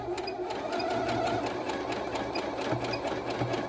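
A Lia sewing machine stitching a narrow, short zigzag, its needle chattering in a fast, even mechanical rhythm close by.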